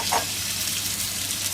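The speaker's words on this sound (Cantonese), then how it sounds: "煎封咗啲排骨先" Pork ribs searing in hot oil in a wok over high heat give off a steady, close sizzle with a brief louder burst near the start, no voices present.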